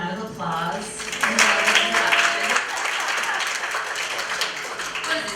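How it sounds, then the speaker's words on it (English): An audience at a New York panel on sustainability in the intimates industry breaks into loud applause after a brief stretch of talk. The clapping swells quickly and carries on steadily to the end. "Can we give Ellen a round of applause?"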